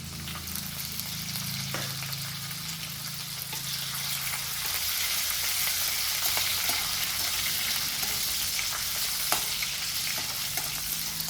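Red and green chillies and garlic fry in hot oil for Rajasthani hotel-style palak bhaji, a continuous bright sizzle with occasional stirring knocks and crackles, close and steady throughout.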